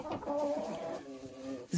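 A hen settled on a nest gives a run of soft, close clucks and throaty murmurs, with no talk over them.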